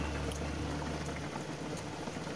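Tripe simmers in a pot, a steady close bubbling and gurgling of liquid that continues without a break, with no voices.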